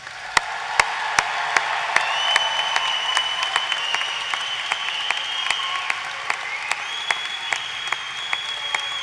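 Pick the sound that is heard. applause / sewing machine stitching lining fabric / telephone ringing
applause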